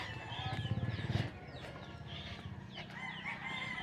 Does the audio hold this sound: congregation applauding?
no